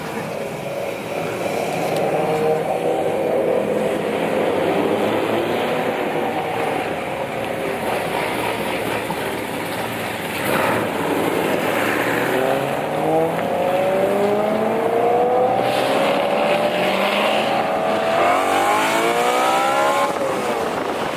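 A loud car engine revs and accelerates close by, a sustained throaty roar with rising sweeps of pitch as it climbs through the revs toward the end.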